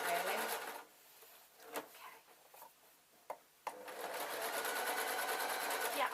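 A sewing machine runs in steady stitching bursts at the start and again through the last half, stitching trouser lining, with a quieter stretch of handling clicks between.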